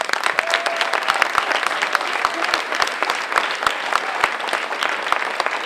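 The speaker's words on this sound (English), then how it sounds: "let's give them a round of applause" A school crowd at a Relay for Life charity event claps for the organizing committee, a dense, steady wash of many hands sustained evenly throughout at close range.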